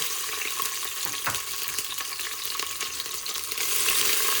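Onions frying in oil in a pan for mutton curry, giving a steady, loud broadband sizzle with a few faint stirring scrapes. No voices are heard.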